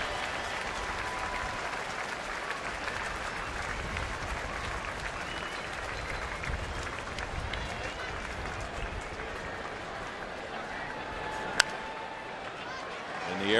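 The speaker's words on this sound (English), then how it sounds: "The customary standing ovation when they leave." Ballpark crowd applause as a standing ovation for former President Bush and his wife Barbara leaving during a Cubs at Astros baseball game, a steady distant wash of clapping with a broadcast announcer talking over it.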